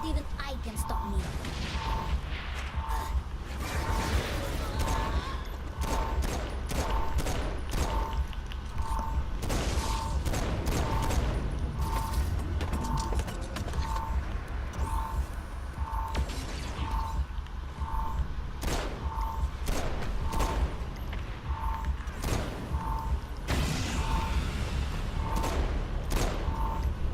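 Steady, regularly spaced weapon shots in Saints Row 4, loud and near, repeating through a continuous bed of game noise and music.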